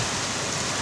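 Very heavy rain pouring down during a violent storm, a dense, loud, even hiss of falling water that stays constant through the short stretch with no voices.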